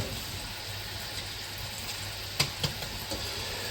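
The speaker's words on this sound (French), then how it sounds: "j'ai haché mon ail. Et on le met à la poêle." Chopped garlic frying in a hot pan, giving a steady close hiss with a few light clicks of stirring near the end and no voices.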